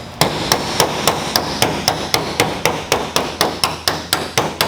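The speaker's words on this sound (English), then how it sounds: "I'm gonna grab a wide base hammer and I'm gonna hit the back sides of this to try to hit these dents outward." A wide base hammer strikes the back of dented car quarter panel metal, about sixteen sharp, evenly spaced metallic blows ringing out loud and close with no talking.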